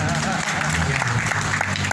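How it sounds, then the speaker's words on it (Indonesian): Audience applause at a Christian community political gathering in West Java, Indonesia, a steady dense wash of clapping filling the whole moment, with voices mixed in beneath it. "Tepuk tangan buat Pak Krisman."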